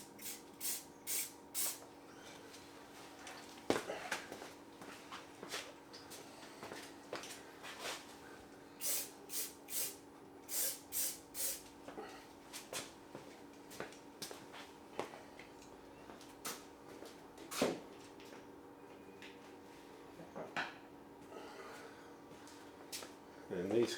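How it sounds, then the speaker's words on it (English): Repeated short hissing bursts of silicone spray, several in quick clusters, fairly close, over a steady low background hum, while working on a 1996 Honda CB750 F2 motorcycle's forks and wheels. "I'm just giving them a little spray with some silicone spray"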